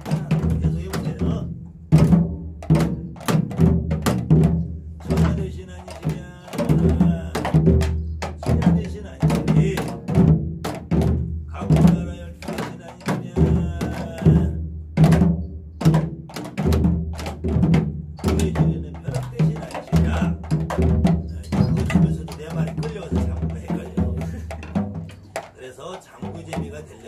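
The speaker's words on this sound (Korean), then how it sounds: "장구로 덩, 따, 따, 쿵 계속 해보세요." A Korean janggu hourglass drum beats out the Hanyang gutgeori rhythm of a shamanic gut ritual, with a steady cycle of close, sharp strikes and deeper booms that runs throughout, and a voice sounds along with it.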